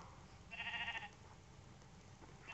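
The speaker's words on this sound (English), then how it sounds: "Oh, here's some sheep here." A sheep in the Minecraft Pocket Edition video game gives a single clear bleat, with the start of another at the end, over a faint steady background hum.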